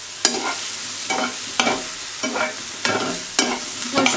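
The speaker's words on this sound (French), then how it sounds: "Donc je finis de faire revenir ça" Vegetables sauté in a hot pan, the fat sizzling steadily while a utensil scrapes and stirs in regular strokes, roughly every half second to a second, each with a short clatter.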